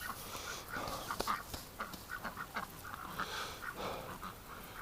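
Ducks being given hay in winter, soft scattered quacks and rustling nearby, fairly quiet, with a dog panting among them and no clear talking.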